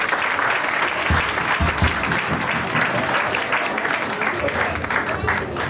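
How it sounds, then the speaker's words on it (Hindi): Audience at a cultural program in the Shalimar Bagh Jain temple applauding loudly and continuously, a dense crowd of claps with a few close sharp hits early on, sustained for several seconds. "तालियां।"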